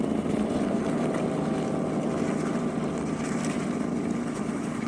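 A Spyker KAT 2X snow blower runs steadily up close in snow, its engine drone mixed with the rush of thrown snow, continuous and loud throughout with no talking.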